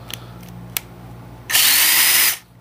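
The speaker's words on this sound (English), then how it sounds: "Drill your pilot hole." A power drill runs at high speed for about a second, boring a pilot hole into wood for cheap DIY shelves. Short, bright and loud, it follows a few faint clicks and small taps.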